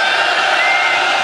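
A large protest crowd holding a candlelight rally shouts together with the candles put out, a loud dense wall of voices that holds steady without pause.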